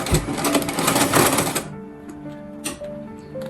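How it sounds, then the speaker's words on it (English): Sewing machine stitching a shirt shoulder seam, running in a fast continuous whirring chatter for over a second, then stopping into quieter handling sounds with a short click, close up. "We are sewing the other side of the shoulder."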